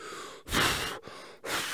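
A person pants out of breath while struggling against the wind on a lake, with two or three heavy, close breaths separated by short pauses.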